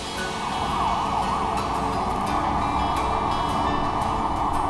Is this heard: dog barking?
no